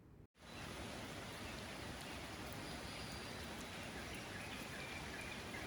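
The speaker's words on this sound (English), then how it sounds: "It's still raining right this minute." Heavy, steady rain from Hurricane Erick pours down in flooded Huatulco, Mexico, a dense continuous hiss that starts after a brief gap and holds loud and unbroken throughout, with no voices.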